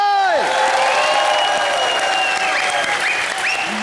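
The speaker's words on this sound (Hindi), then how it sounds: "रवीना मैम और सुखविंदर जी के लिए जोरदार तालियां हो जाए।" A studio audience at a Hindi comedy TV show bursts into loud, sustained applause lasting several seconds, with a host's voice and musical tones ringing over the clapping.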